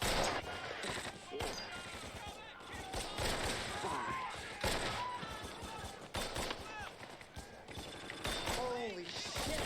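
Machine-gun bursts and rifle fire from a World War II crossroads battle scene, with dense, rapid volleys and sharp cracks throughout, mixed with shouting voices and battle noise.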